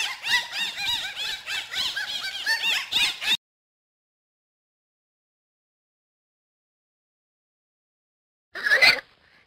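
A pig squeals in loud, shrill, rapid bursts for about three seconds, then silence follows before a short final squeal near the end.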